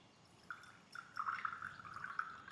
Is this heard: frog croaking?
no